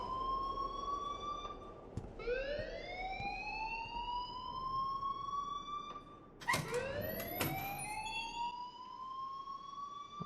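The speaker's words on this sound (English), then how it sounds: "please turn off that alarm since that's your job" Alarm blaring in the Life Is Strange video game, a siren-like tone that swoops upward and repeats in rising cycles, sharp clicks cutting in midway, heard fairly quietly and steadily throughout.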